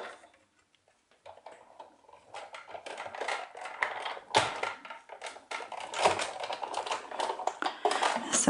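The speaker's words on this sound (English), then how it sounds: "So now I'm gonna cut these out." Scissors snip through paper card pieces for a Christmas card, a close run of quick, crisp cuts and rustles that grows busier after a quiet start.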